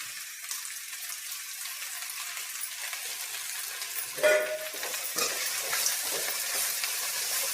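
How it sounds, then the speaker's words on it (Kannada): Sliced onion and okra fry together in a pan with a bright, airy sizzle, punctuated by a few clinks and scraping stirs partway through, close by with no speech. "ಎರಡನ್ನೂ ಸೇರಿಸಿ ಈರುಳ್ಳಿ ಬೆಂಡೆಕಾಯಿನೂ ಸಹ ಎರಡು ಫ್ರೈ ಆಗ್ತಿದೆ"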